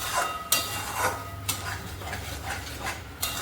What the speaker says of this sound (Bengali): এটা ভালো করে ভাজবো এখন।